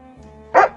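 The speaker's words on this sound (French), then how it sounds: "Aboie Pongo sans se lasser de toutes ses forces." A single loud dog bark from a Dalmatian near the end, after a quiet stretch of low hum, sounding alone without talk.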